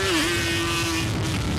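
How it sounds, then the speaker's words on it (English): Off-road vehicles rev on the sand dunes of Little Sahara, Utah, a loud sustained engine drone with a rising and settling pitch, close and continuous with a rough rumble beneath. "The revving of engines is a sound workers say is common over the Easter holiday"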